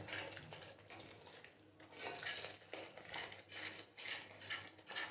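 A spoon scrapes and clinks in a pan as ground peanuts are stirred into masala, rhythmic rasping strokes repeating every half second or so, quiet and close with no talking.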